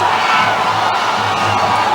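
Spectators at a school rugby final between Isipathana College and Science College roar and scream at the players in a loud, dense, continuous wall of crowd noise with no clear pauses.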